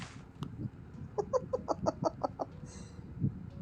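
A Minecraft chicken clucks in a quick run of short, evenly spaced calls, fairly quiet and close, with a faint soft thud at the end and no voices.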